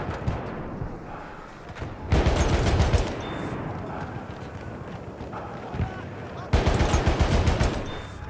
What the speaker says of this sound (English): That's a shotgun, isn't it?